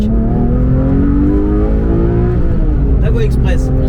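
A Porsche 991 GT3 Touring driven on a small country road, its engine note climbing steadily in pitch under acceleration, with a voice speaking over the interior drone.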